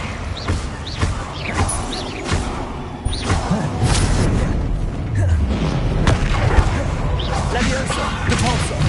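Spell effects from the video game Hogwarts Legacy, a busy run of booms, whooshes, thuds and crashes layered over one another at steady loudness, with voices calling out beneath the clatter.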